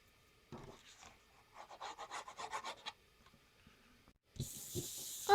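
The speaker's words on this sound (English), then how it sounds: "I'm going to glue this directly into the front" Glued white cardstock rubbed down by hand onto the front cover of an accordion journal, heard as short close papery rubbing and brushing strokes in bursts, followed by a louder scraping rub at the end.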